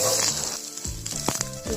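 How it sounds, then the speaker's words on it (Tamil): Onions sizzling in a hot frying pan for tomato curry, a steady crackling hiss throughout, close by, with faint voices and kitchen clatter underneath. "நறுக்கி வச்சிருந்த வெங்காயம் போட்டுக்கலாம். நல்லா வதக்கிடுங்க."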